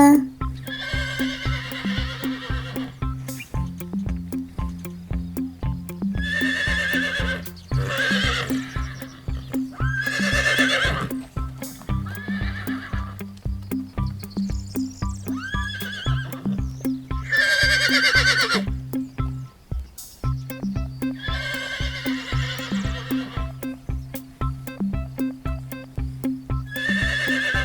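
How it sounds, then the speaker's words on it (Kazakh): Several horse neighs and whinnies ring out over steady background music, with occasional hoof clip-clops. "Жылқы. Жылқы. Жылқы."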